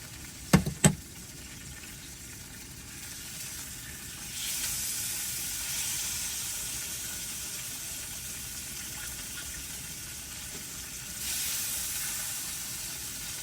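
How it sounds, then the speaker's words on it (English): Steak, a Cumberland sausage swirl and mushrooms fry in full-fat West Country butter, giving a steady close hiss and sizzle that swells twice, after a couple of sharp clicks at the start; no one talks. "Steak, Cumberland sausage swirl, extra special, and mushrooms cooked in butter."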